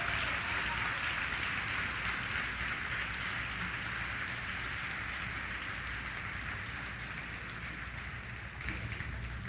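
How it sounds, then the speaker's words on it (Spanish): A church congregation applauds in a sustained, dense wash of clapping that holds steady for several seconds, then eases slightly toward the end. "dale más fuerte ese aplauso al Rey"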